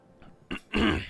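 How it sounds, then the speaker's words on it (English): A person clears their throat twice, close and fairly loud, with a short rough burst followed by a longer, stronger one. "I'm genuinely clearing my throat like every second."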